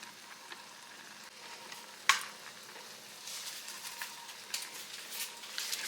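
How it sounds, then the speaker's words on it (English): Beef steak sizzles in oil in a pot for spicy steak ramen, a steady crackling fry with sharper pops and a loud clack near the start. "we're going to throw that in that pot with the oil and get it cooked up"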